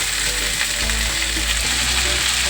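Fenugreek leaves being added to a hot kadhai of frying methi and onion, a dense continuous sizzle with a low hum underneath, close and steady, no speech.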